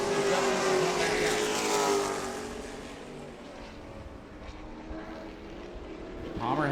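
A race car engine during Sportsman qualifying at New Smyrna drones as it builds speed, a loud, continuous motor roar that swells, eases and rises again, with an announcer talking over it.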